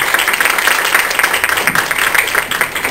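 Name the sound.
audience applause and cheering at university lecture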